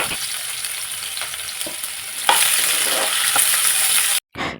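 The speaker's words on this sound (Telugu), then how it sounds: "ఇంకా ఆనియన్ కూడా వేసి బాగా వేయించేసుకోవాలన్నమాట." Onion sizzling in hot oil with mustard seeds and cumin, a steady close frying hiss that jumps louder about halfway through, with occasional stirring scrapes and a brief dropout near the end.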